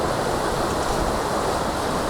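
Strong rush of irrigation water flowing fast through a concrete lateral canal with its check gate open, a loud, steady, broadband roar filling the whole span with no letup.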